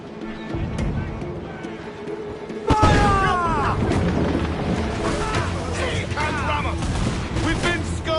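Naval battle in a video game with mortar and cannon fire booming in a sudden loud barrage. Crackling gunfire, sea noise and shouting crew voices follow and carry on throughout.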